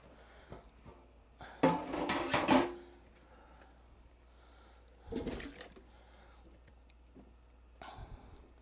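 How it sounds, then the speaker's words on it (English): Lyed white corn gets a quick water rinse while making Oneida corn soup: two short close splashing gushes with quiet pauses between them. "just give it a quick rinse"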